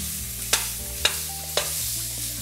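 Spoon stirring free-range chicken frying in a pan with a dark crust forming, three sharp scraping strokes spaced about half a second apart over a steady close sizzle.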